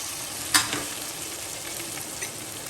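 Chickpeas drop into a pan of hot garlic-chutney tempering with a sharp splash, then a steady, close sizzle and frying hiss continues under light stirring.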